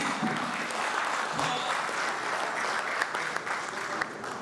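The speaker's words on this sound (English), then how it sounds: "A round of applause for the Managing Director, Insights Redefinitely, Dr. Ken Ibe." An audience at a Polaris Bank product unveiling applauds the managing director, a dense, steady wash of clapping from a sizable crowd that holds evenly throughout, with faint voices mixed in.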